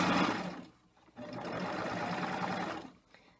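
A serger overlock sewing machine trims about a quarter inch off a fabric edge, its fast steady whirring running close and loud in two bursts with a brief pause between.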